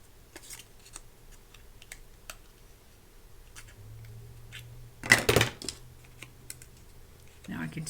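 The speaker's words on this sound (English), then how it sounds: "now I'm just going to cut in at a slight angle to give it that tail look." Scissors cutting into a paper file folder at a slight angle: mostly quiet small clicks and light handling, then one close, sharp snipping cut near 5 s, with a soft rustle at the end.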